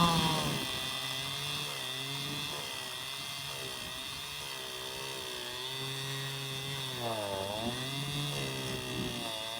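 Chainsaw cutting a knotty piece of firewood on a farm, a loud continuous high-pitched whine with the engine pitch dipping and rising as the chain bogs into the wood, close and steady throughout.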